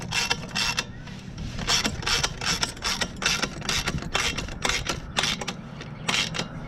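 A ratchet wrench tightens a bolt under a car near the oil pan, giving repeated rapid clicking bursts over a low steady hum, close and continuous with no speech.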